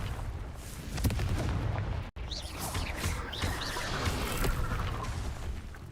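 Magic fire-blast spell bursts in the Hogwarts Legacy game, a loud continuous roar of booming explosions with a sharp drop near the two-second mark, steady and dense throughout, no voices.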